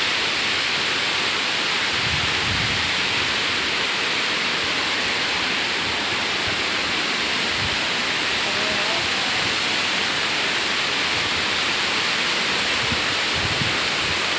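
A dense, continuous rush of falling water roars steadily throughout, loud and broadband, with occasional faint low thumps beneath it.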